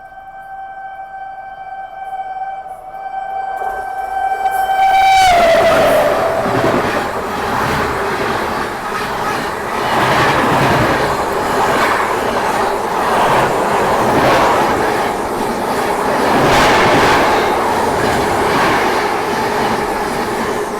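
The Gondwana Express overtakes on an Indian railway line: a sustained horn tone sounds first, then a close, loud passing rumble with rhythmic wheel clatter that rolls on steadily.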